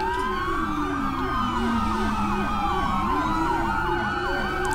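Ambulance siren during a high-speed police pursuit, its wailing tones sweeping up and down steadily and loudly over engine rumble for the whole stretch, with no talking.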